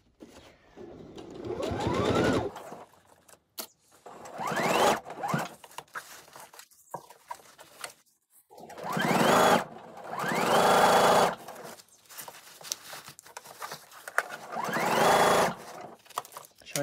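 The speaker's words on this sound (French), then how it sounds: "je pique au bord de ce rempli en laissant toujours la bretelle à l'intérieur du" Sewing machine stitching along the folded hem of a fabric tote bag with the strap tucked inside, running in four loud, steady bursts of rapid whirring separated by short pauses and faint handling noise.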